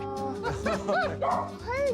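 Young Lab Shepherd mix puppies whimper and yip in high, rising and falling whines. The cries come close together in a steady series over a low background murmur.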